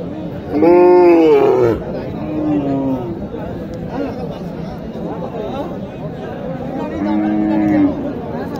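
Cattle lowing at a busy market in Naogaon, a couple of deep drawn-out moos from a black cow and calf rising above steady crowd chatter and nearby voices.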